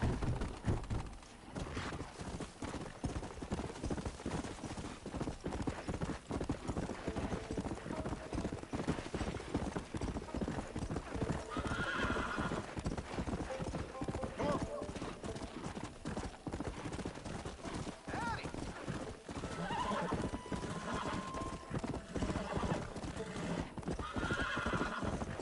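Horse hooves clip-clop steadily at a gallop through a Red Dead Redemption game scene, with repeated whinnies and neighs breaking in over continuous busy ambience and occasional faint game voices.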